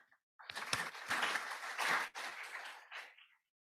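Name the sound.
audience applause for panel guests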